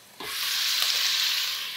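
Roughly chopped garlic dropped into a hot oiled pot, setting off a sudden loud, steady sizzle that holds evenly for under two seconds, with no voices.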